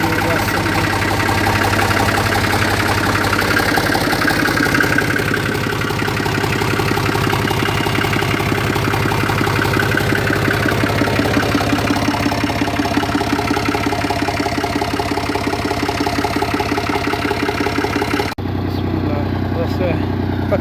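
A tractor engine runs steadily with a vineyard sprayer attached, in a vineyard in Italy, a continuous mid-pitched drone close by that holds throughout, with a brief hissing spray burst near the end and some voices in the background.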